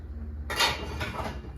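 A cooking pot lifted and handled in a home kitchen gives a short run of close metallic clanks and rattles, one sharp clatter followed by a lighter knock near the end.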